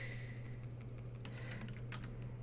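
Soft computer keyboard and mouse clicks while editing an image mask, a few light taps scattered over a steady low hum, quiet and close.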